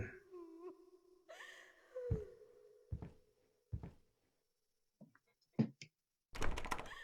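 A locked door is tried in the VR horror game Layers of Fear: several sharp knocks and rattling thunks sound close by in a quiet room, with a faint tonal drone before and a denser burst of clattering at the end.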